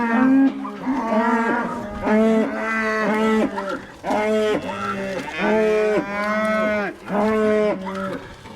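Cattle low repeatedly in a barn, loud and close, with several long, drawn-out moos following one another in a steady sequence and brief pauses between calls.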